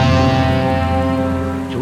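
Steady rain falling as a radio drama sound effect, an even hiss with a low rumbling undertone, continuous and moderately loud, no voices.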